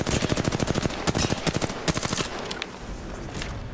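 Rapid automatic gunfire in a fast Apex Legends firefight, with dense bursts of loud, close shots in a steady stream that thin out toward the end, with no voices over it.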